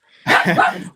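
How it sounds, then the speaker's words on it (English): A dog barks at a window in a home during a live online interview, one loud, close, sharp bark followed by the start of another, with no talking over it. "Yeah, she's just barking at the window."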